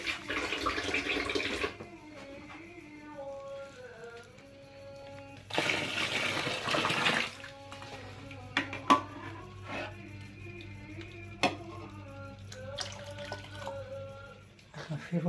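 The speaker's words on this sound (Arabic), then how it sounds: "بحط عليه شوية مية ساقعين من الفلتر" Cold filtered water is poured into warm milk in a kitchen, giving a soft splashing pour with a louder gush midway and scattered light clinks, faint and alone without talk.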